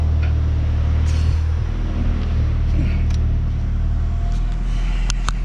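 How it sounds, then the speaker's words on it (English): A Honda car engine idles, heard from inside the cabin as a steady low rumble that holds loud and close throughout, with faint ticks and clicks on top and no speech. "Now let's check the idle, see where that's at inside the car."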